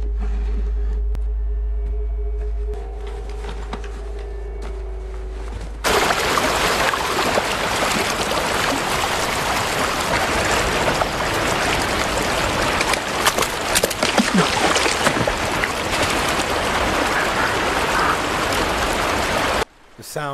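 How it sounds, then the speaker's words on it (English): Flowing water in a scene from the film A Quiet Place rises suddenly into a loud, dense, continuous rush that carries on steadily before cutting off near the end. "Sound of the water, they won't hear them."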